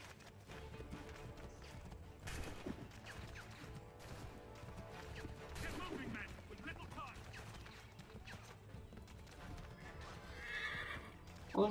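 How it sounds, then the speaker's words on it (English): Horse in Assassin's Creed III galloping with rhythmic clip-clop hoofbeats and whinnying, all fairly quiet under game sounds, with a sharp louder burst at the very end. "Let's get on the horse."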